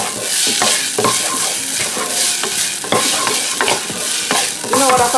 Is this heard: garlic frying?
yes